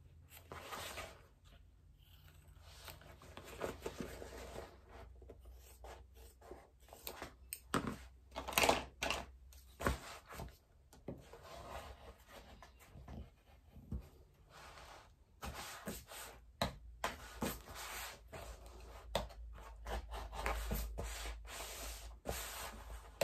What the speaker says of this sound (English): So I'm just going to trim off about the bottom inch.